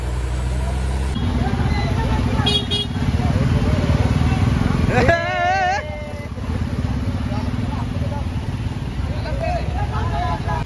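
A crowded bus carries people to a Ganesh immersion in Thane, its engine droning steadily throughout while a passing horn or siren wails briefly midway.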